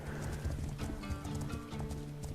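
Horse hooves clip-clop in a quick, steady rhythm while riding across the landscape in the game The Legend of Khiimori, up close and continuous, with a faint whinny-like tone underneath.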